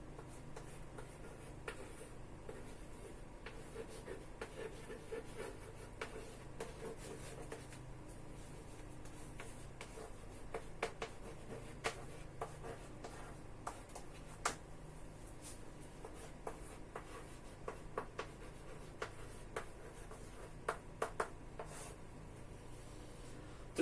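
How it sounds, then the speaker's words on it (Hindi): Handwriting during a logic lesson: soft scratching pen strokes and small taps near the mic, coming in irregular bursts with short pauses over a low background hum. "एक और लिखते हैं"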